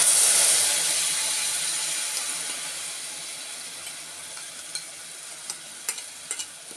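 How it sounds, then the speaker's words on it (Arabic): Tomato juice hitting a hot pan for lentil soup, a loud initial sizzle that fades into a softer steady hiss, with a few small clicks and spatters near the end. "هننزل عليهم بعصير الطماطم."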